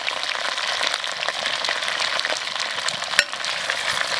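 Beef stew ingredients stir-fried in a pot with ginger, potatoes, tomatoes, onions, green beans and chili, a close, steady sizzle with scraping stir strokes and one sharp clank near the end, no voices.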